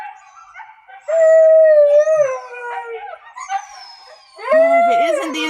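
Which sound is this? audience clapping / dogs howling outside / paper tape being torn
dogs howling outside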